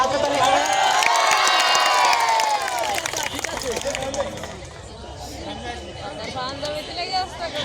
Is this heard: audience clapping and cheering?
yes